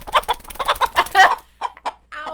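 Pet chickens cluck in a rapid run of short, close, throaty notes, followed after a brief pause by a few more scattered clucks.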